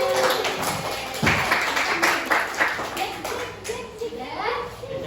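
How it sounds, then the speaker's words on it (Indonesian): High school class applauding during a classroom guidance session, several bursts of hand clapping mixed with children's voices and chatter, fairly close. "Wow, terima kasih tepuk tangan."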